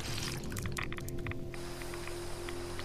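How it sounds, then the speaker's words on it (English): A Fallout 76 character falling into water: a burst of pouring, splashing liquid over the first second and a half, then quieter scattered drips, under a steady low game-world hum. "Oh god, I fell in the water."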